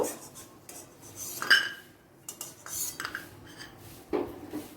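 Lentil dumplings fried in mustard oil are lifted from a kadai into another pot, giving scattered soft clinks and scrapes of a utensil against metal, close by and fairly quiet, with pauses in between.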